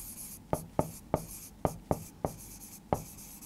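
Writing out a chemistry solution with a pen or marker: a run of about eight sharp, close strokes and taps in an uneven rhythm, with no talk.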